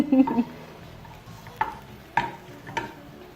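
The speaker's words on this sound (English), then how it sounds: "I'm just going to let that continue frying away" Food fries in a pan during a fish fillet and sautéed French beans and mushroom dinner, with a low steady sizzle under scattered sharp clinks and scrapes of a wooden spoon stirring against the pan.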